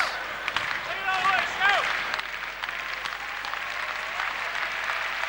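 A hockey crowd at the Coliseum roars and applauds during a Fort Wayne Komets power play against Kalamazoo, a dense, steady wash of cheering with a few rising whistle-like tones near the start.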